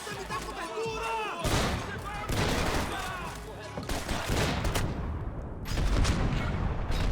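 Blind-fired gunfire in the video game Max Payne 3, dense bursts of rapid shots and heavy impacts packed together across the clip, loud and close with few pauses.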